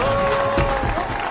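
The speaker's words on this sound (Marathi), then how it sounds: "एकदा जोरदार सगळ्या दहीहंडी पथकांनी टाळ्या वाजवून त्यांचं स्वागत करायचंय" A crowd at a Dahi Handi festival claps and cheers in a dense, continuous wash of applause, loud and close, with a sustained tone and voices mixed in.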